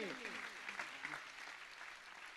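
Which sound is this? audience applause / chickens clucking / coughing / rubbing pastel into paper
audience applause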